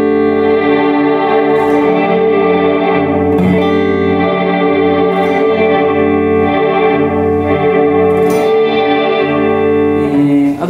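Electric guitar played through a Strymon BigSky reverb pedal with the effect mix turned low, sustained chords and notes ringing continuously with a subtle wash of ambience behind the mostly dry tone.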